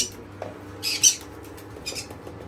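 A pet bird begging for food lets out a couple of short, harsh squawks, one sharper than the rest, over a low steady hum.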